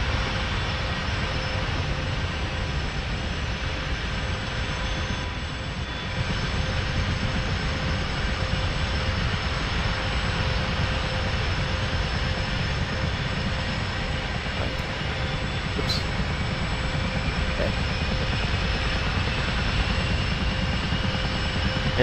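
An AH-64 Apache helicopter engine in DCS runs as a steady, loud turbine drone with a constant whine, holding evenly for over twenty seconds without voices.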